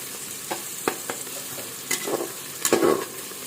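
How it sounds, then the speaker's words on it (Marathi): Tomatoes frying in a pan for beetroot bhaji are stirred with a spoon, giving several short scraping strokes and soft sizzling bursts that grow louder toward the end, close and without talk. "टोमॅटो सुद्धा सॉफ्ट होईपर्यंत असं हलवत राहायचं"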